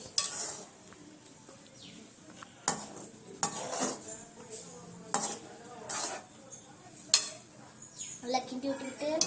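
Metal utensil scraping and clanking against a pot of Maggi noodles being stirred in irregular bursts, close by, with faint background noise between strokes.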